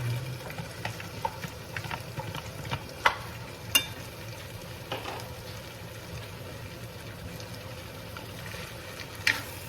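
Meat is added to sautéing carrots in a pan for bopis, producing a quiet, steady sizzle with scattered clicks and utensil knocks up close, no talking.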